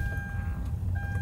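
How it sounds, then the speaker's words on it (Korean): A power window on a camping car motors briefly, a steady low whir that runs close by for about a second and ends in a sharp click. "창문 살짝 열어야 돼서 시동 버튼을 저기 두 번만 눌러줘요"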